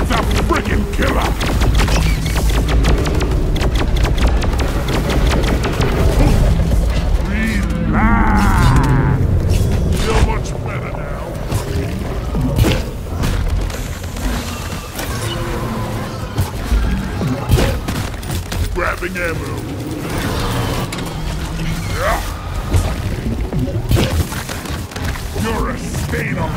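Heavy booming blasts from a bomb detonator creature in Deep Rock Galactic, mixed with dense weapon fire and debris crashes in a loud chaotic cave fight, while players call out over the din.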